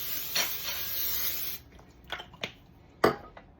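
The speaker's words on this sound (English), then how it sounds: "I like to use this Pam Original Easy Cleanup spray. Just spray my griddle with first." A steady hiss of Pam Original cooking spray onto a griddle lasts about a second and a half, followed by a few quiet scrapes and taps on the metal surface.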